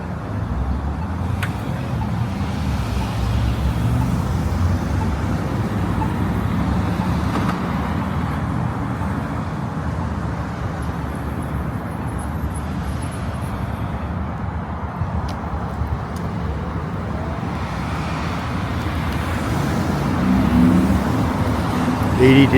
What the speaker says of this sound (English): Way too much traffic.